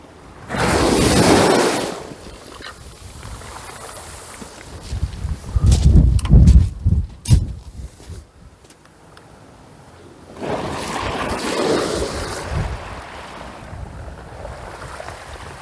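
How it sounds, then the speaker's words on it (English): Strong wind batters the microphone at the seashore during a fishing competition, loud gusts rising and falling for several seconds over a constant rush of wind and surf. "Look at that wind, man. That wind!"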